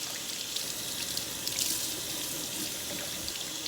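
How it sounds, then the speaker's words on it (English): Steady water pours from a sink tap while dishes are washed by hand, a continuous close hiss and splash with no talking. "I'm doing the dishes, and I need water."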